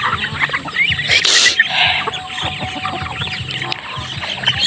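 Chickens cluck repeatedly nearby in an outdoor yard, with a burst of noisy rustling early on and other bird calls around them.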